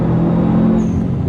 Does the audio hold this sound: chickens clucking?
no